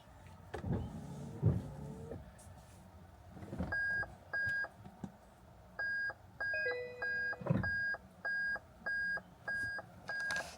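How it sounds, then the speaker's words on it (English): A Nissan GT-R digital dashboard chime beeps in a steady, evenly spaced series of short tones, with a brief overlapping second tone partway through and faint handling noises between. "It's funny they still put the beep in."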